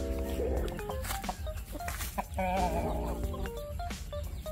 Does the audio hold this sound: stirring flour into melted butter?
no